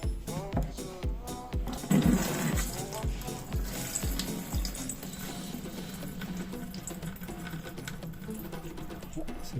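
Fuel or fluid pours in a strong, steady stream from the float bowl of a Yamaha FZS600 motorcycle carburetor, a continuous close splashing hiss with a few sharp knocks early on, under occasional talk.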